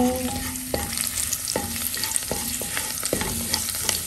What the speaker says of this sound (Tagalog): Ilalagay ko na ang bawang.